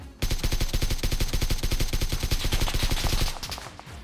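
Rapid automatic gunfire in the mobile video game PUBG New State plays as a loud, fast burst of evenly spaced shots. It runs for about three seconds, stops abruptly and is followed by a short fading tail.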